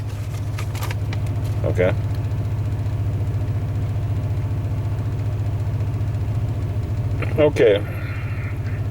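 A 1998 Chevy Vortec engine, back on the road after ten years of not running, idles steadily as it runs out of fuel, a low continuous rumble nearby, with someone briefly speaking twice over it.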